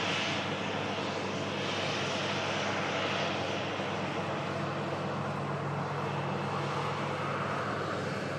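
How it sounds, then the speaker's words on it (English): An Airbus A321neo arriving from Cairo on final approach to land, its engines a steady, continuous broadband roar that holds level throughout without any break. "A321 Neo aircraft coming in from Cairo"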